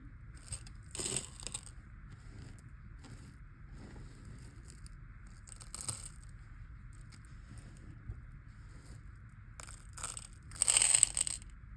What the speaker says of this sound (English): Beads are going everywhere.